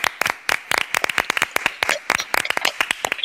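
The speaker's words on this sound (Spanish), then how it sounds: "Un aplauso para Dani." A live studio audience on an Argentine television program claps in quick, uneven bursts for a guest named Dani, fairly close and loud, with no voices over it.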